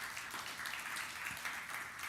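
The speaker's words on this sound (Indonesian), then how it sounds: "beri tepuk tangan yang meriah bagi Tuhan Yesus" Applause from a church congregation during a sermon, a steady, fairly soft wash of clapping filling the room with no voices over it.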